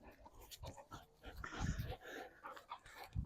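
A dog whines and yips in short excited bursts while chasing a toy during drive training, the sounds close and moderately loud with scuffling movement between them.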